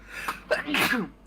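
A single sharp human sneeze, close and fairly loud, with a short breathy intake before the burst.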